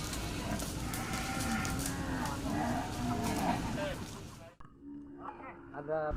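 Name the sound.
cattle on oil palm plantation farm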